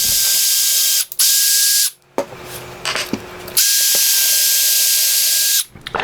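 A Simplex vise clamp is put back on with a power tool, two long loud whirring bursts separated by ratcheting clicks and metallic handling noises, then a final short clatter.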